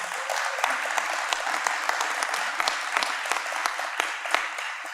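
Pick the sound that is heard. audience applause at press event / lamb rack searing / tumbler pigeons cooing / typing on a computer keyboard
audience applause at press event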